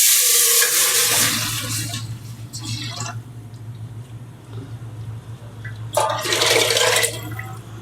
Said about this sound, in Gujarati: હવે આપણે નાખશું કઢીનું પાણી